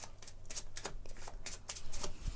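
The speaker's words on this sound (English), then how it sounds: "So that gets shuffled into my deck." Cards from a Pathfinder Adventure Card Game deck being shuffled by hand at a table, giving a close, quick series of riffling flutters and soft slaps with no talking.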